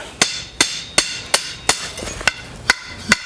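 Hot steel bar stock, 1/4 by 2, hammered off the edge of an anvil to flare it out while forging a hinge: eight sharp, ringing metallic blows at a steady rhythm, close and loud, with no talking.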